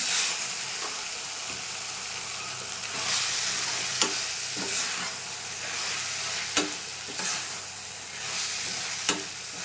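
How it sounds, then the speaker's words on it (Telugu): Ginger garlic paste frying in a pan for vegetable biryani, with a continuous close hiss and sizzle while a spoon stirs and scrapes, marked by several sharp taps against the pan. "ఈ అల్లం వెల్లుల్లి పేస్ట్ అనేది పచ్చి వాసన పోయేదాకా తిప్పేస్తున్నాను."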